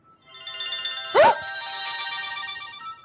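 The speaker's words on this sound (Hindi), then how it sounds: "बिलाल का फोन है।" A mobile phone ringtone plays as a repeating melodic electronic tone throughout, fairly loud and close, with a brief louder burst near the start that may be a voice or other noise over it.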